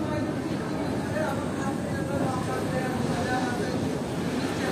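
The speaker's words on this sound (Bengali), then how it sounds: "আমাদের ট্রেন 13182 কাজিরাঙ্গা এক্সপ্রেস রামপুরহাট স্টেশনের 2 নম্বর প্ল্যাটফর্ম থেকে বেরিয়ে গেল" Kaziranga Express 13182 pulling out of platform 2 at Rampurhat Junction, a steady, loud rumble of rolling wheels and carriage noise with someone talking over it throughout.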